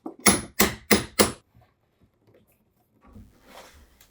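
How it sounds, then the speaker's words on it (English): Four sharp, evenly spaced metallic blows of a hammer ring out close by during dresser restoration, followed by quiet with faint handling noise. "smashing it with a hammer"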